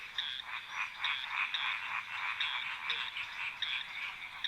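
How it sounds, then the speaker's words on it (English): Frogs in a humid Madagascar rainforest give a chorus of repeated high, pulsing croaks in a quick, regular rhythm, fairly close and steady against a quiet background. "Some 300 species of frogs thrive in Madagascar's humid rainforests."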